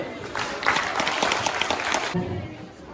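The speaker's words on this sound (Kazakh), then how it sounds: "шапалақпен жіберіңдер жеңістіне" An audience at a school event in Turkistan gives a short, lively burst of applause for a winner, rising quickly, holding for under two seconds, then dropping away to low murmur.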